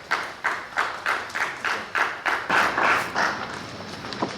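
A few people at a city council meeting clap in a steady, sparse rhythm of about a dozen distinct claps, faint and somewhat distant, with no talking.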